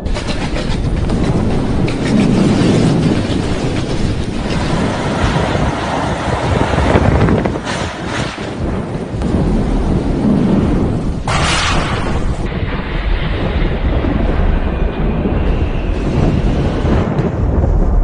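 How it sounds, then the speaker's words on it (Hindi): Roaring winds of Super Cyclone Amphan in West Bengal, loud and relentless, with heavy rushing gusts and rattling debris that swell and ease without pause. "ये शोर है उम्पुन तूफान का, जिसने आज पश्चिम बंगाल और ओडिशा को हिला दिया।"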